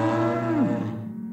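A single cow gives a short, deep moo that slides downward, close and loud against a low steady background.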